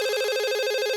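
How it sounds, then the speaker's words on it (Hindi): A cartoon telephone rings with a loud, bright electronic trill, a rapid pulsing tone repeating evenly through the short burst, heard alone. "अरे कौन फोन कर रहा है?"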